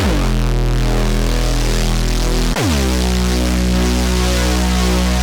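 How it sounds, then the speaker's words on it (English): A deep, sustained synth bass note from Ableton Live's Drift synth with its noise oscillator blended in as a hissing layer; midway the tone drops and restarts with a short downward swoop. "here I've got this noise oscillator inside of Drift that I can just increase the level of"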